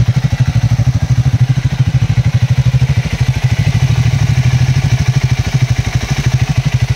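Two Triumph Speed 400 motorcycle engines idle close by in a steady, rapid chugging rumble with a faint metallic clatter, holding an even level throughout.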